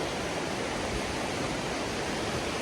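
Fast-flowing mountain streams and a swollen river in the Appalachians rushing after heavy rain, a steady broadband roar of churning water, constant and enveloping with no voices.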